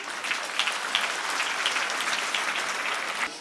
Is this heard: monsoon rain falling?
no